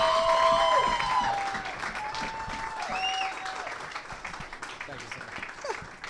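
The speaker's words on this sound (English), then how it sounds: "Let's give a big round of applause for Mr." Clapping from a crowd in a pub at a signing day gathering, loud at the start and easing off, with cheering voices and whoops carrying over the applause.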